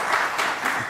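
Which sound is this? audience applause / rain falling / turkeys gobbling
audience applause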